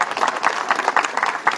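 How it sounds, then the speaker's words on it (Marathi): A crowd at a Vanchit Bahujan Aghadi constitution rally in Chandgad, Kolhapur claps loudly and continuously, a dense, close patter of many hands with uneven swells. "जोरदार टाळ्या वाजवून त्यांचं"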